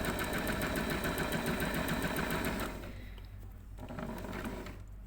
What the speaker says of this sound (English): Do my reverse, stitch along that stitch line.